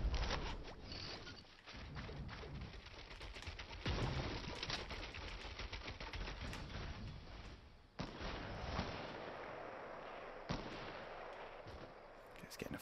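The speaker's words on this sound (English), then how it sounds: "he's getting a firefight over there" Dense video-game gunfire from a Fortnite firefight, rapid automatic bursts and scattered shots rattling continuously and fairly loud, with a sharp break near the middle before the shooting resumes.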